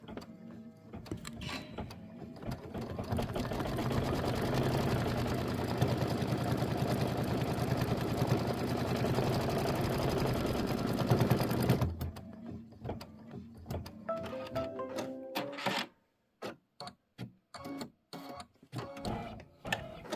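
A Kimberbell embroidery machine stitches a roof fabric piece for a pillow project, a steady rapid mechanical whirr running for about twelve seconds before stopping, followed by scattered handling clicks and taps.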